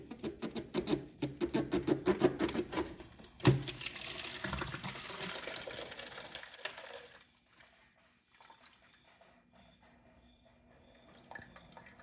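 Coolant from a Jeep Wrangler during a thermostat replacement drips into a rinsed-out two-liter drain pan, a quick run of close splashy drips that fades into sparse, quiet drops and near-silence.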